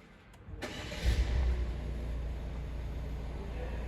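A 2021 Citroen C4 1.5 BlueHDi diesel engine cranks and catches after a brief whir, then settles into a steady, low diesel idle rumble close by.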